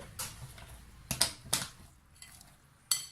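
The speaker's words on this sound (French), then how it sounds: "On mélange bien tous nos ingrédients" Spoon clinking against a bowl while cayenne pepper and harissa are stirred together, a few sharp metallic taps and scrapes spaced irregularly, close and fairly quiet.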